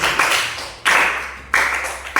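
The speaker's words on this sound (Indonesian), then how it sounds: "tepuk tangan buat diri kita sendiri" Short bursts of group clapping swell and fade several times in quick succession, loud and close.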